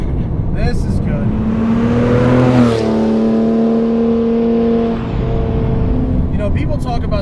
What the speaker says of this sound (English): It revs up on the blips super fast.